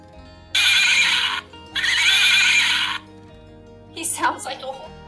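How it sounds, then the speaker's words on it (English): A Build-A-Bear plush horse toy neighs twice in loud electronic whinnies with clip-clop sounds, followed by a short burst of a voice nearby. "when you push his paw, he actually neighs like a horse."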